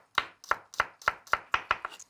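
A knife taps steadily on a cutting board, thinly slicing garlic, about eight crisp, evenly spaced slices in quick rhythm, close and clear with no talking.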